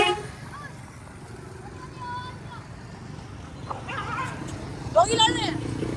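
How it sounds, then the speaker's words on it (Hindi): Dogs fighting outdoors, yips and barks rising near the end over steady traffic-like rumble, with people talking throughout. "डॉगी लड़ रहे हैं।"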